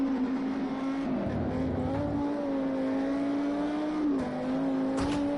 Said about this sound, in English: Let's listen to his throttle application around here.